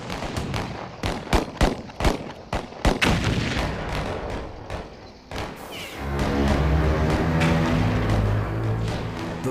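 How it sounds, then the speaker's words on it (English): Automatic gunfire on Doomsday Mountain in Turkey, sharp cracking bursts of shots in quick irregular volleys, then a louder sustained rumbling roar of continuous fire and booming echoes. "The thunder of gunfire rocks the walls of Doomsday Mountain"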